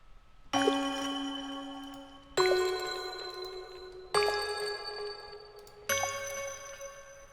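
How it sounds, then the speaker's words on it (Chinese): Four bright chime chords from the puzzle-solving sound effect in the video game Carto, struck one after another at even intervals and each ringing out before the next, clear and alone. "那这边有另外一个谜题的音效"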